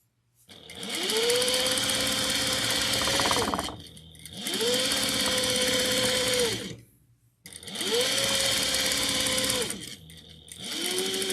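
Close by, a sewing machine stitches a pillowcase seam in three long, steady runs, each separated by a brief stop, with no voices.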